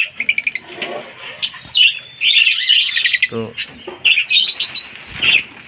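Baby lovebirds chirp in quick high bursts and squawks close up, and their wings flap in short flurries. A brief human voice cuts in once.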